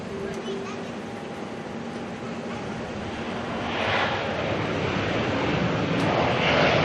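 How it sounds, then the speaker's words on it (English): An airliner lands at night at Auckland Airport and uses reverse thrust: a broad, steady jet roar that swells louder toward the end, with voices talking over it. "Beautiful bit of reverse thruster action there."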